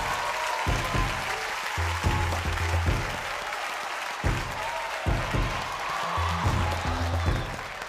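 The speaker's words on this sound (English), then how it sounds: "Give him a round of applause, y'all." An audience at a stand-up comedy show applauds steadily for a comedian, a broad wash of clapping over a thumping low music beat.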